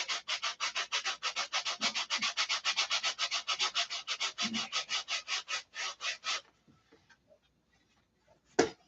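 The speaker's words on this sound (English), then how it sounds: "I glued the sandpaper to my finger." Sandpaper glued to a fingertip rubbed back and forth in a fast, even rhythm of about thirty strokes, followed by quiet and a single sharp knock.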